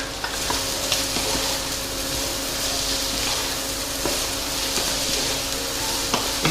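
Bell peppers, onion and lardons sizzle loudly in a pan over raised heat, a dense continuous crackle with occasional sharper pops and faint scrapes of stirring.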